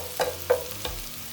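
Boiled chole stirred into sautéed onions in a pan makes three distinct scraping, clattering stirs over a faint low sizzle, close and fairly quiet, with no talking.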